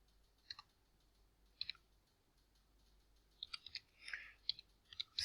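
Sparse clusters of light key clicks from a computer keyboard, typed in short bursts with pauses between, close and faint, with no talking.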